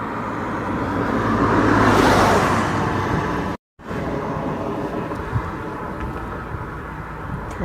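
Aircraft on the runway at Aberdeen Airport, a broad distant engine roar swelling then easing off into a steady rumble, with no voices.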